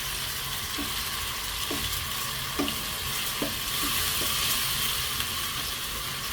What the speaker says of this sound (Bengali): ভালোভাবে নেড়েচেড়ে মিশিয়ে নেব যতক্ষণ না পর্যন্ত এর কাঁচা স্মেলটা চলে যায়